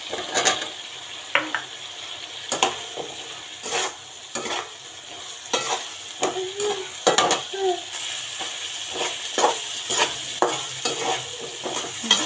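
Spice masala fries in a pan while a spatula scrapes and knocks against the metal in quick, repeated strokes over a continuous close sizzle.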